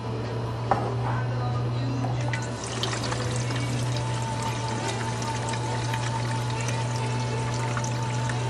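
Gasoline pouring into the tank of a Tecumseh lawnmower, a soft steady liquid trickle heard close up and fairly quiet for several seconds, with no talking.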